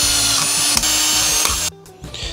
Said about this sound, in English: drill some holes, and make some washers out of them